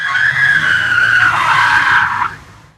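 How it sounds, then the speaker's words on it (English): A car's tires skidding across a wet road at night, one long loud screech that holds steady, wavers, then cuts off and fades quickly. "The car skidded across the double yellow line, the headlights sweeping across the wet trees on the other side of the road."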